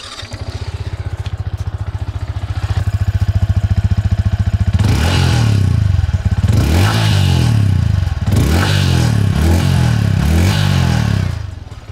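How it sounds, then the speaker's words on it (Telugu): Yamaha XSR 155 motorcycle exhaust, close and loud, with a steady idle that swells into several sharp throttle blips, each rising and falling in pitch, with no voices over it. "సో ఒకసారి ఈ ఎగ్జాస్ట్ ఎలా ఉన్నాయనేది చూపిస్తాను మీకు."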